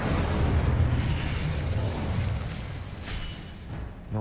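Fire spells cast in combat in the Hogwarts Legacy video game, a loud sustained blast with rumbling bursts that stay dense and steady for several seconds before easing slightly.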